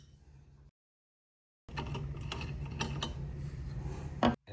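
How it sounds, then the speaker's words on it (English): Metal clicks and scraping of an adjustable wrench working loose small fasteners on the tilt steering column levers of a 1966 Lincoln Continental, a busy ratcheting clatter close by that starts after a brief silence and ends with a sharper clack. "I'll probably just use an adjustable wrench to get these started"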